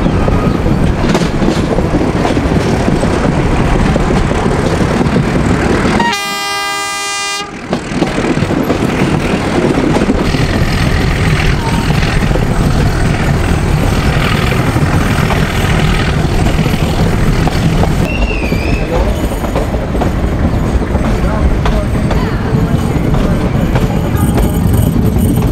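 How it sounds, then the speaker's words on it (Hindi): A meter gauge heritage train on the Marwar to Mavli Goram Ghat line pulls into a small Rajasthan station, giving a loud, steady rumble of rolling stock that runs almost the whole time, broken only by a brief tonal squeal. "अब हेरिटेज ट्रेन पहुंची है"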